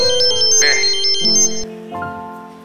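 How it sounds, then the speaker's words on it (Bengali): A mobile phone rings from inside someone's pocket, a bright electronic ringtone melody playing loudly and close for a few seconds with no talking over it. "কি পকেটের মধ্যে ফোনটা বাজছে"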